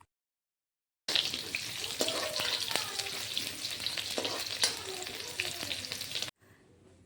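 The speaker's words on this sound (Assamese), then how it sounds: "তেল দিলোঁ আৰু গোটা জিৰা কেইটামান দি দিছোঁ আৰু পিঁয়াজো দি দিছোঁ" Sliced onion and whole cumin seeds frying in oil in a kadhai, a close, steady sizzle with crackling pops and stirring scrapes that starts abruptly after a second of silence and cuts off near the end.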